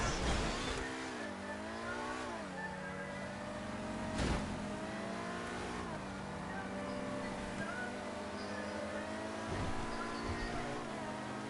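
Racing cars in a PS4 racing game drone steadily with engine whine that rises and falls through gear shifts, a continuous near motor roar with brief bumps and no clear talk.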